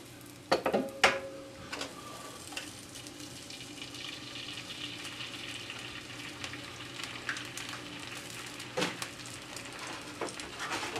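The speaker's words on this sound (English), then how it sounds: "I've got a little bit of some fried mushrooms going here" Mushrooms and hash brown potatoes frying in a pan, a soft steady sizzle with a few clinks and scrapes of utensils early and again near the end, fairly quiet and without speech.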